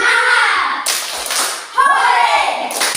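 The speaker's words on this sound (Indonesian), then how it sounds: "Tepuk semangat ya." Schoolchildren in a classroom do the 'tepuk semangat' spirit clap, sharp rhythmic hand claps in quick groups between bursts of children's voices and shouting, close and lively.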